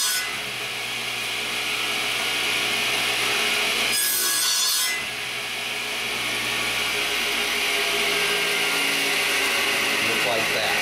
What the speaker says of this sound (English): we're going to cut it into 2 pieces that are 5 7/8 inches long